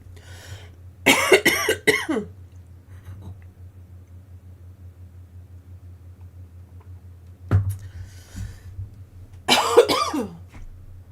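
Two separate bursts of harsh coughing, several coughs each, close up over a low steady hum, with quiet pauses between.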